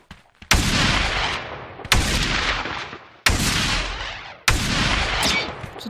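A four-shot shotgun fires in Blade and Sorcery: four loud, booming blasts, roughly one every one and a half seconds, each decaying into a long echoing tail before the next.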